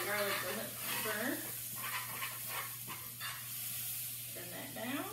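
Garlic and green onion cook in melted butter in a hot pan, giving a steady close sizzle with scraping stir strokes from pushing the butter around, plus a low steady hum underneath and a few short bits of talk.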